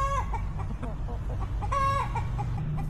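Backyard chickens, Isa Brown hens, a black Australorp and a Wyandotte rooster, cluck softly in short, scattered calls over a steady low hum, fairly faint and close.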